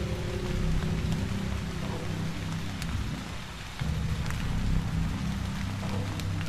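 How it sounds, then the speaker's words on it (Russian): Rain falling in the horror video game Haunted Memories, a dense, loud, continuous downpour with a deep rumbling low end like distant thunder, briefly easing before swelling again. "Звездное небо, там пару тучек и дождь такой идет."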